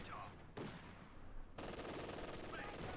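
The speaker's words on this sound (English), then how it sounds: "Punching over this auto-cannon and coaxial machine gun." In the game Company of Heroes 2, an armored car fires its auto-cannon and coaxial machine gun in rapid bursts, heard faint and distant behind a commentator's voice.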